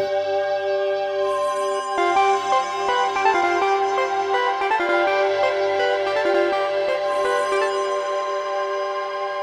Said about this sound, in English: And I can add a Volca bass as well.